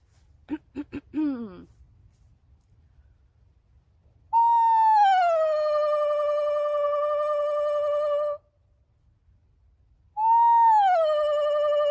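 A few short whinnying trills, then two long, steady hooting whistles that slide down and hold, clear and close against a quiet background; a person imitating a barred owl's call.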